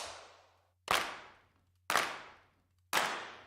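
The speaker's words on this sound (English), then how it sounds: "they've got the clap sounds, which are, as you can imagine, probably kind of like epic." Epic clap sample played in FL Studio: three sharp, loud clap hits about a second apart, each trailing off in a long, washy reverb tail.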